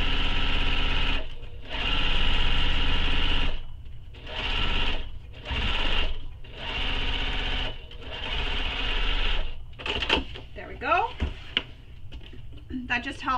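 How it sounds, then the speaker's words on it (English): A sewing machine stitches over a tote bag seam a second time, running in several short steady bursts with brief pauses between them. Handling noises and clicks follow near the end, close up. "I'm going to stitch over that seam again, just for some extra security and to make sure that it's nice and straight"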